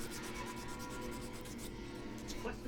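Steady, close rubbing and light sanding on the wooden handle of a bench knife being smoothed, a continuous scratchy abrasion with fine repeated strokes.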